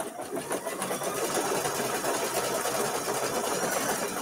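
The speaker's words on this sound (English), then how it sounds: "here's our final blanket stitch on the shamrock" A sewing machine runs steadily, stitching a final blanket stitch around an appliqué shamrock, its fast continuous whirring loud and close without pause.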